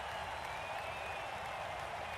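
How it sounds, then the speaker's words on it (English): A cheering crowd of fans during a kickoff event in the video game Blood Bowl 3: a steady, dense roar with scattered applause that holds at an even level throughout, without pauses. "Cheering fans, that did nothing."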